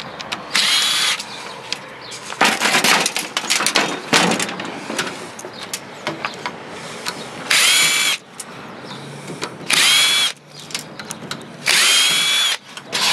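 A cordless power drill whirs in repeated short bursts, loud and close, backing screws out of an old radio, with clinks and rattles of metal parts between runs.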